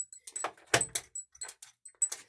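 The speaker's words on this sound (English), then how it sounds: "oh, let me lock the door." Keys jangling and a lock turning as a door is locked, a string of short metallic clinks and clicks close by with one firmer thunk near the middle.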